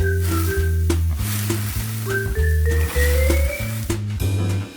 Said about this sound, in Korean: 잘게 썬 야채들도 먹기 좋게 구워야지